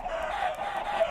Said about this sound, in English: Oh my goodness, all these chickens.